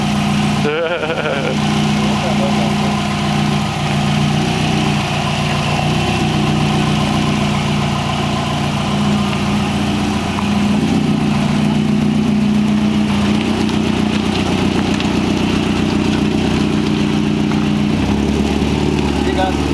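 A Subaru Legacy GT fitted with a custom STI exhaust idles loudly and steadily up close, a deep, even burble holding throughout, with a small shift in tone near the end.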